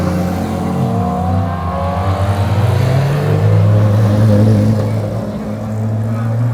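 Heavy Japanese racing cars with gold wheels pull away: a loud, close engine drone rising and shifting in pitch as they drive off, with a voice faintly underneath.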